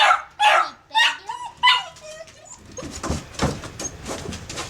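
A pet dog barks and yips in several loud, close bursts, followed by softer whimpering and scuffling while a person talks nearby.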